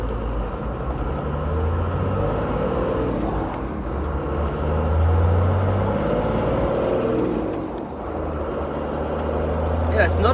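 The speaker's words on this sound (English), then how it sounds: "you can hear the turbo spool a whole lot more" A straight-piped, diesel-swapped Toyota FJ60 accelerates with a deep, steady engine drone and a faint rising turbo spool, loud and continuous throughout, with a short surge near the end.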